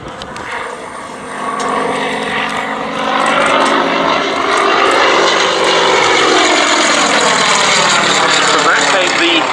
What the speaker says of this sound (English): Yak-50, which was developed to compete at the World Aerobatic Championships